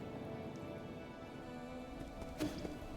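Steady rain in the video game Nine Sols, a constant soft hiss of falling drops with a faint patter and one small splash-like blip, quiet and alone.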